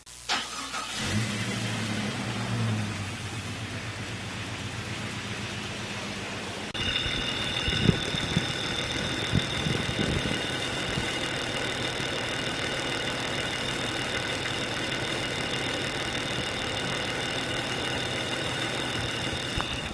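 A six-cylinder car engine with a noise at the timing cover starts up and settles into a steady, continuous idle, close by, with a constant hum and a faint high whine throughout.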